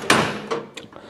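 Drawers of a tool storage chest holding socket sets are opened or shut, giving three or four quick, close knocks and slides in about a second.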